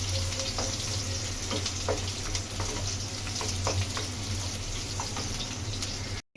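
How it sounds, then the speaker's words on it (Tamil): Small onions sauté in hot oil in a pan for a mutton liver pepper fry. A constant, close sizzle and crackle runs throughout, with occasional scraping and clinking as they are stirred and no talking. "நல்லா இதாகட்டும், நல்லா கொஞ்சம் வேகட்டும் வெங்காயம்"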